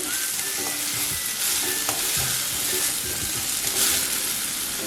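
Pumpkin chutney cooking in a pan, a continuous bright sizzle and hiss with soft scraping stirs repeating every second or so, close and steady, no talking.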